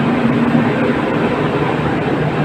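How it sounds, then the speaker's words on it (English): Loud, steady broadband rumble of a train at a station near Melbourne, continuous and close with no pauses, a low hum running throughout. "The train's so loud."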